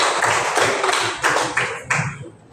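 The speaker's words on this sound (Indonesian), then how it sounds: "Sebelumnya bisa tepuk tangan dulu untuk kelompok." A few people clap for a student group after its presentation in a classroom session, with scattered, uneven claps close by that thin out and stop near the end.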